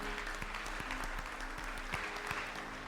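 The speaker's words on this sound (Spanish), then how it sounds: "Dale un aplauso fuerte al Señor." A church congregation applauds steadily in dense clapping, fairly distant, with a low hum underneath throughout.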